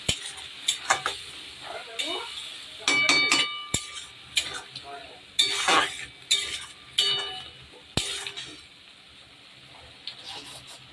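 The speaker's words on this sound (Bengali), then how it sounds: "এবার আমি মশলাটাকে ভালো করে কষিয়ে নেব।" Spices stirred and fried in a pan for Bengali chicken kosha, with rhythmic scraping, clinking spoon strokes against metal and a low sizzle beneath, in close and busy repeated bursts.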